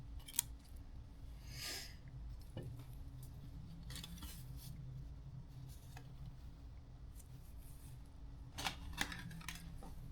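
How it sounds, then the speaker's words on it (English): Scissors or cutters snip through a plastic zip tie during a vehicle mod, with a few sharp clicks and snaps scattered over quiet handling noise, close and faint. "Cut the zip tie."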